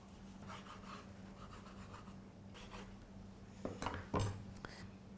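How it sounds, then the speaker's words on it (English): A knife cuts through a rested rib-eye steak on a board, with quiet rubbing strokes and a few sharper scrapes and taps toward the end, close and faint. "So I'm just going to cut them into small slices."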